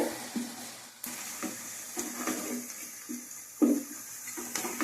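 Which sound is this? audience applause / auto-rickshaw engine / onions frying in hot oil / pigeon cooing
onions frying in hot oil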